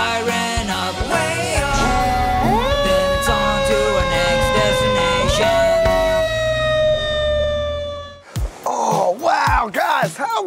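A fire truck siren wails in long rising and falling tones, loud and close, then gives way to quicker whooping bursts near the end.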